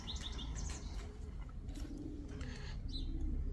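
Pigeons coo softly in a low, murmuring flock, with scattered chirps and a brief flutter, faint against steady background noise.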